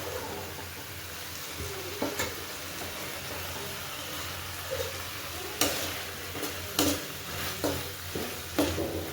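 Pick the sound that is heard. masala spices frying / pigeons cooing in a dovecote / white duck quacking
masala spices frying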